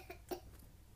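A boy gives a couple of short, faint coughs, a brief weak one followed by a slightly stronger one, in a quiet indoor room.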